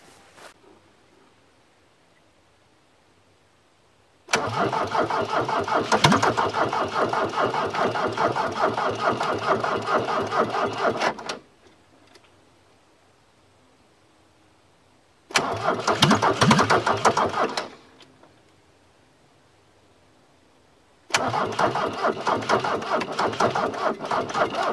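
Diesel VW Rabbit engine cranking on a weak battery, three long loud bursts of steady rhythmic churning separated by silent pauses, the engine never catching.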